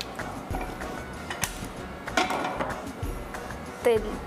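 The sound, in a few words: gas stove being switched on, igniter clicking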